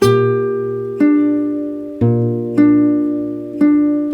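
Slow guitar chords strummed one at a time, each ringing out and decaying before the next, five strums in steady succession with no voices.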